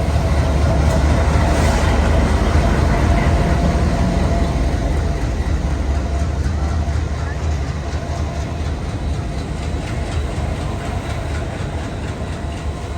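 A train to Guwahati rumbles along the rails with a heavy low roar and rhythmic clatter, loud and close, fading slightly as it continues.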